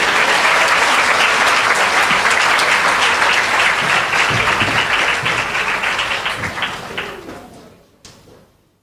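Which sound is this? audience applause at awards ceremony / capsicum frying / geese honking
audience applause at awards ceremony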